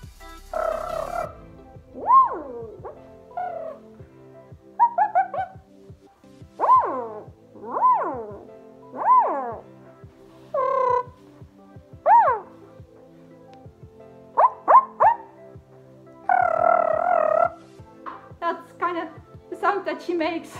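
A human voice imitates Remix, a creature whose noises blend kitty-pig squeals, Stitch-like chatter and Velociraptor calls, in a string of short rising and falling squawks, trills and croaky cries with pauses between them, close to the microphone.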